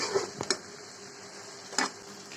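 A spoon stirs fried onions and potatoes into a curry for hari kebab, giving a few soft, close scrapes and clinks against the pot over a faint steady sizzle.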